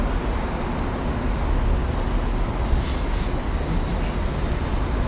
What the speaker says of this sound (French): Le bruit de la circulation ne désemplit pas pour autant.